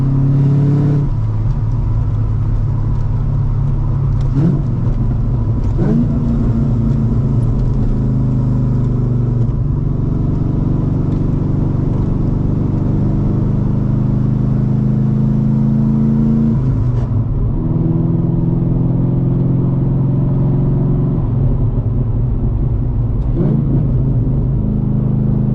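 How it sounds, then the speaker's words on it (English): A cammed Corvette C5 with long tube headers and catalytic converters, cruising in a steady deep rumbling exhaust drone that swells and drops with several throttle blips and revs, loud and close, no talking. "If y'all are wondering what exhaust I have, and not because it sounds bad, it's long tube headers with cats"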